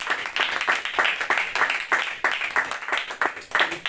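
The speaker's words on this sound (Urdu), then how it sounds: "ہم سب اپنی آنکھیں کھولیں گے اور یسوع کے جلال کے لیے زوردار تالیاں بجائیں گے۔" A church congregation claps loudly together in a quick, rhythmic beat, the sharp bursts of hand claps repeating at a steady pace for a few seconds.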